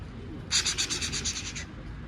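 Pigeons take off from a rooftop, making a short, close burst of rapid wing flaps that lasts about a second over a low outdoor background hum.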